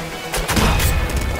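Rapid gunfire from Crows in the video game Nuclear Throne comes as a burst of loud, punchy blasts and crashes, closely spaced and heavy on low booms.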